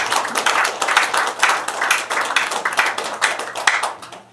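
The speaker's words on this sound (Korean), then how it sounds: "박수로 크게 성원해 주십니다" Audience applause at a Syngman Rhee forum in Los Angeles, given for his son Dr. Lee In-soo: dense, steady clapping from a sizeable crowd, close and loud, running the whole stretch before tapering off at the end.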